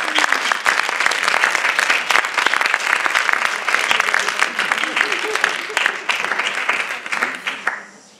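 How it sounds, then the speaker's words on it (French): An audience at a talk on the pedagogy of kindness claps vigorously, dense crowd applause heard close, with a few voices mixed in, that holds steady before fading out at the end. "super heureuse d'accueillir Sophie Rabhi, que vous pouvez applaudir très fort, et qui va venir..."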